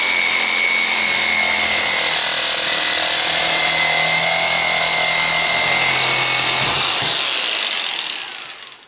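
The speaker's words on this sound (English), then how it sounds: "I'm going to be using a jigsaw here to cut this curved line" Electric jigsaw cutting a curved line through a workpiece, a loud, continuous buzzing whine with a shifting pitch that runs steadily before winding down at the end.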